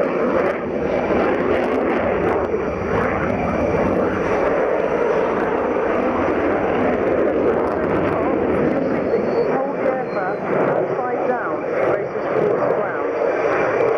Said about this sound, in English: he'll roll the jet the other way before pitching up into the first half of the movement